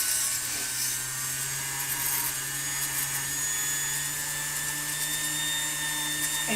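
A handheld power tool whirs continuously while buffing solder and patina off metal, a loud steady drone with a high grinding hiss and no pauses.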